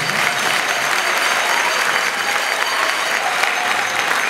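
Loud, dense audience applause fills a theatre at an anniversary concert for the Legion of Mary in Senegal, a continuous roar of many clapping hands that holds steady throughout.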